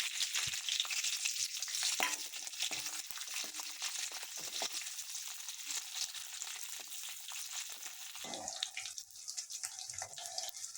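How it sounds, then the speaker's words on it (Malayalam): Green chillies frying in hot oil in a home kitchen pan, a steady close sizzle with crackling bursts throughout, briefly stirred and shifting near the end. "ഇതിലേക്ക് പച്ചമുളക് ഇടാം."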